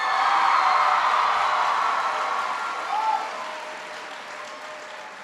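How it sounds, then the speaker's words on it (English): Large crowd at a back-to-school presidential speech giving Kelly an enthusiastic round of applause, sustained clapping that gradually fades. "Give Kelly a big round of applause"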